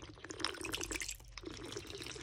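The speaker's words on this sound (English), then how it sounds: "Let's just gonna add some more water around here." Water poured and splashing into a tarantula enclosure, a steady close trickle with small drips and splashes running throughout, no talking.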